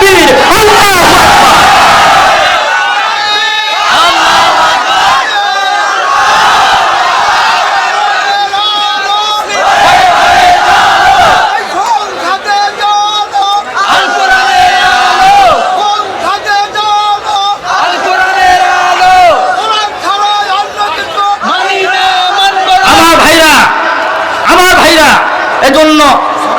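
Large crowd chanting Nara-e-Takbir, Allahu Akbar at a religious gathering, loud massed voices roaring in repeated rhythmic call-and-response waves for the whole stretch, close and dense.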